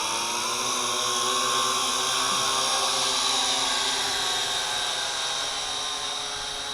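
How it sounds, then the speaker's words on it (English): Syma X8C quadcopter drone with its stock camera climbing at high speed on a breezy day under blue sky, giving a steady high-pitched whine of buzzing rotors that holds evenly throughout with no talk. "activating the quadcopter, turning on the video camera, and going to high"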